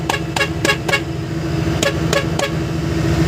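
A car horn honks in short repeated toots, four quick blasts then three more, over a steady rumble of nearby traffic.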